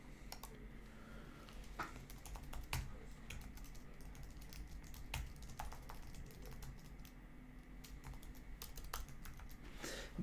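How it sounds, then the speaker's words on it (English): Quiet typing on a computer keyboard, a run of irregular, light key clicks and taps with occasional sharper strokes, close but faint, with no talking. "I have my keyboard here. I'm going to type that for you guys so I can remember to name the video that."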